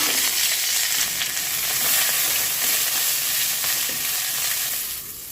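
Coriander leaves fry in ghee in a hot pan with a loud, steady sizzle that carries on without break and fades slightly at the end, with no voices.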